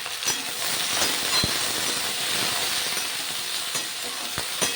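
Okra being stirred with salt and turmeric in a pan, a steady close sizzle with scraping stir strokes and a few sharp spoon knocks against the pan, no talking.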